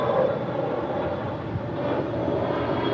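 An airliner takes off from runway 25 right at LAX, a steady broadband jet roar heard from a distance that holds at an even level throughout with no voices.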